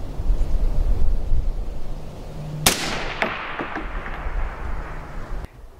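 A single suppressed shot from a Predator AR-15 rifle in .22 ARC fitted with a .308 suppressor cracks sharply mid-clip, its echo decaying over a second with faint distant shots and outdoor range noise before and after.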